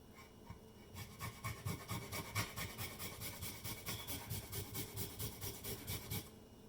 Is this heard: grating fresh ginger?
yes